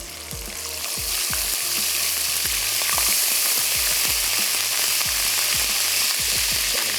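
Garlic fries in a pan with loud, steady sizzling and crackling, while a utensil stirs with occasional low scraping thumps; no voices.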